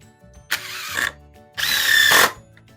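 Power drill driving 2.5-inch screws through thick wood of a barstool, two close bursts of whirring motor with the screw grinding in, the second longer and louder, alone without talk.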